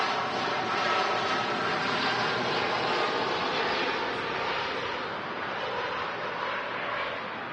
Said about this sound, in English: heading off to Montego Bay, the TUI Dreamliner